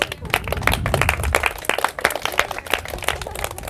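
A small class of Spanish-language students claps in a short, dense burst of close, sharp hand claps that fills the whole moment.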